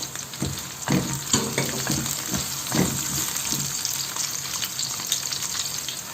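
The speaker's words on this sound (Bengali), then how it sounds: "রসুনটাকে আমি হালকা একটু ভেজে নেব" Minced garlic fries in a pan for a Bengali beef tripe bhuna, giving a steady close sizzle with scattered soft crackles and scraping knocks, and no voices.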